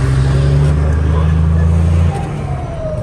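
A car fitted with a new turbo drives with its engine droning loud and steady under load, then easing off after about two seconds, heard from inside the cabin with some voices.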